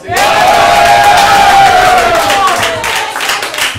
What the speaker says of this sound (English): Let's hear it for Deus